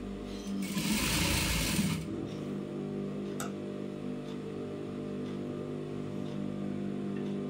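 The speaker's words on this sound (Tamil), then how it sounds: "2 பீஸும் ஒன்றா வச்சு இதை தைக்கிறேன் பாருங்கள்" A sewing machine stitching two pieces of fabric together along the edge for a potli bag, a close, fast whirring burst for about two seconds that stops, followed by faint ticks and low room hum.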